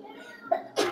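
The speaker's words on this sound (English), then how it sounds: "So many sneezes." A child sneezes, a quick sharp burst near the end, preceded by a faint breathy sound, close and fairly loud.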